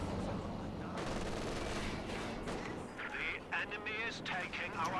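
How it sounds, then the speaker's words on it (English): A Panzer IV tank firing in a Company of Heroes 2 battle. Dense, steady gunfire and blasts run throughout under a commentator's voice. "Panzer IV opening fire on the Resurgence squad."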